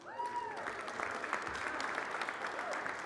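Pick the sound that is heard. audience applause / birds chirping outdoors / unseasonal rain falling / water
audience applause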